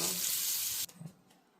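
Filtered reverse-osmosis drinking water pours steadily from a kitchen tap, a loud continuous rush that cuts off abruptly, leaving a few soft drips and clinks.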